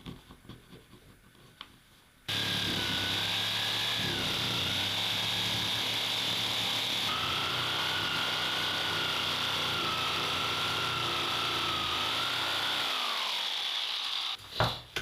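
A power tool cuts off the end of a wooden leg for a DIY gift, a loud, steady high whine and buzz kicking in after a quiet start and running about twelve seconds before winding down.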